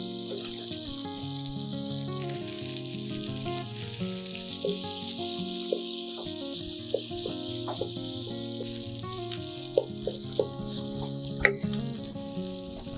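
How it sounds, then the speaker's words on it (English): Tempeh sizzling in a hot pan with chili, a steady crackling fry with scattered clinks and scrapes of stirring, close and moderately quiet, no talking. "Add tempe, stir well."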